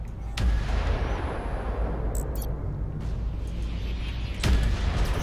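Spaceship weapons firing in the sci-fi video game Fractured Space, a loud booming blast, a steady rumbling roar, then another heavy shot near the end.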